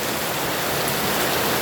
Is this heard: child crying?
no